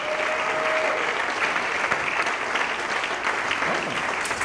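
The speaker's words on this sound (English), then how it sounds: "Give him a round of applause." An audience claps steadily as a Paralympic gold medalist is brought up on stage. The dense applause runs throughout at a constant level, with faint voices mixed in.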